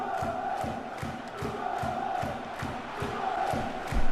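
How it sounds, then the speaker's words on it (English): A stadium crowd in the football video game PES 2014 chants and roars in a steady pulsing rhythm, with regular rhythmic beats running under the massed voices throughout. "Crowd trying desperately to lift us here on 64."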